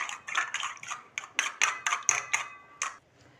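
Eggs and a little sugar whisked in a bowl for sweet egg bread, a quick run of sharp rhythmic clinks and taps, close, ending in quiet.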